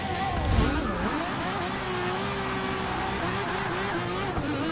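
A race car in Forza Motorsport 6 launches with heavy wheel spin in a night race, its engine holding a loud, sustained high-revving whine that wavers slightly in pitch and stays close and continuous throughout.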